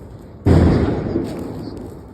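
A firecracker bursts close by with a sudden loud crack, and a rumbling crackle follows it for a couple of seconds before it slowly dies away. The firecracker is set off at home by a family.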